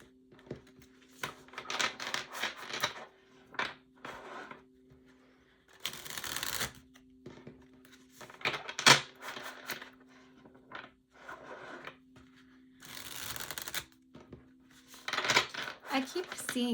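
Tarot cards being shuffled in repeated bursts of riffling and flicking, close and clear, with quiet gaps between bursts and no talk over them.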